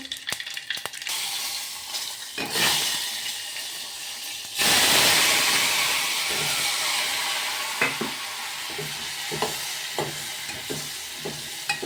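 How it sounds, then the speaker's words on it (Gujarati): Spices for a tempering hit hot oil with an abrupt loud sizzle burst a few seconds in, preceded by stirring clicks; the hiss then settles into a steady frying crackle with occasional utensil taps, close by and without talk. "તો મિત્રો આપણું તેલ ગરમ થઈ ગયું છે હવે વઘાર દે દીએ"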